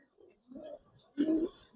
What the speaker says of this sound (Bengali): এই একটা মাক্সি কবুতর, একটা সিঙ্গেল মাদি